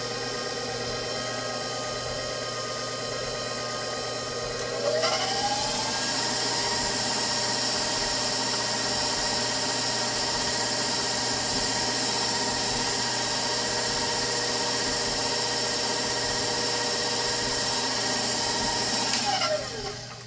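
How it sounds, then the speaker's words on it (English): An electric mixer beats eggs into creamed sugar and butter for lemon bread, a steady whirring motor hum that rises in speed after a few seconds, runs continuously, then winds down at the end, with no talking. "Now we'll incorporate the eggs really well with the creamed sugar and butter."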